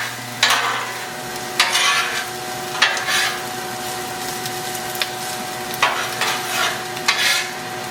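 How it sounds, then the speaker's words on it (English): Chanterelle mushrooms, green peppers and onions fry in bacon grease in a pan, with a steady close sizzle broken by repeated scraping stir strokes. "And they're cooking in that bacon grease right now."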